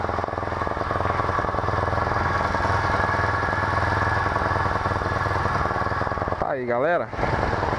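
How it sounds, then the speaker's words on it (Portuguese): A small motorcycle engine, a Yamaha FZ15 with a 190cc kit, idles steadily with a throbbing putter, close up, and someone speaks briefly over it near the end. "Motinha funcionando perfeitamente."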